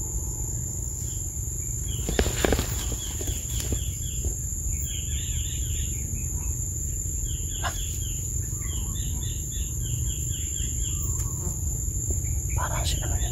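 Steady chirping of night insects with a constant high-pitched drone, scattered faint calls, and a low background rumble throughout.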